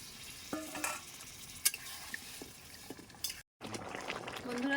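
Water poured into a pan of spiced shrimp and pointed gourd curry, a quiet sizzle with a few clinks, a brief gap, then a bubbling hiss as the liquid hits the hot masala.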